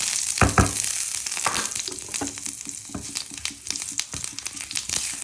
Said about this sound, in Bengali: এইগুলো একটু একদম ভালো ভাজা করতে হবে